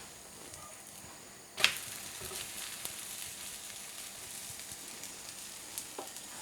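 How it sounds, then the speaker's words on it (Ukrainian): A faint, steady frying hiss of a crepe-style pancake in a pan, opening with a brief sharp sizzle burst, then a low continuous crackle. "І підсмажуємо линець з однієї і з іншої сторони."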